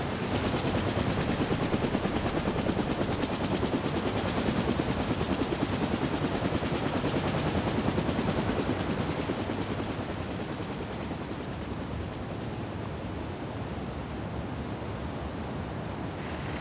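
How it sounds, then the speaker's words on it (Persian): A helicopter flies to an island on an Antarctic eclipse expedition, its rotor producing a loud, steady, rapid chopping drone close by, with no voices. "برای بررسی اوضاع، بالگرد راهی جزیره می شود."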